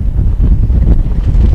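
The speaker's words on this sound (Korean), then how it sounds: "바람소리." Wind gusting steadily across a riverside campsite, a loud low rumble buffeting the microphone throughout with no voices.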